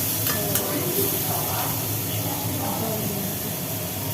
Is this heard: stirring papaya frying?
yes